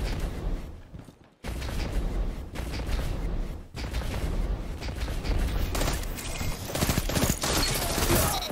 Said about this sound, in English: I hear some gunfights.